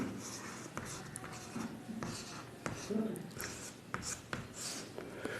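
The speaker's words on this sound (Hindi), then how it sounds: "हम ये लिख लेते हैं भिन्न" Handwriting a word for fraction during a Hindi maths lesson: a soft, continuous scratch of pen or chalk strokes with a few sharper taps, over faint room noise and murmuring voice.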